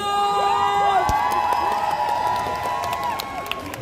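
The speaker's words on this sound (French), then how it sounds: "Mesdames et messieurs, un tonnerre d'applaudissements pour Dan!" Fan festival audience in Paris cheering and applauding, a loud, dense crowd roar with whoops and high shouts that stays steady throughout, with some musical tones sustained underneath.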